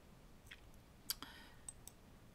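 Computer mouse right-button clicks during desktop work, a few faint, sharp clicks spaced irregularly over a quiet room background.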